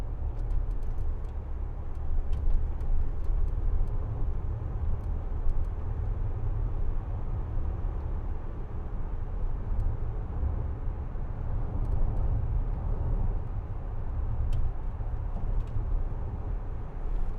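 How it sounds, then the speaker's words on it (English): Land Rover Discovery 4 SDV6 HSE driving along a bumpy country road, heard from inside as a steady low rumble of engine and road noise with occasional faint knocks and ticks from the suspension and cabin. "This is a very bumpy road as well, and suspension on this Discovery, it's still a little bit bumpy"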